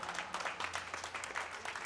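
Spectators applaud a racquetball rally in a quarterfinal match: steady, dense clapping from a crowd at moderate distance, with no voices over it.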